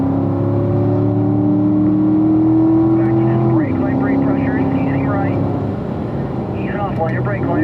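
A Corvette pulls hard on a race track, its engine droning loudly then rising again after a shift, heard from the cockpit as an instructor speaks over it.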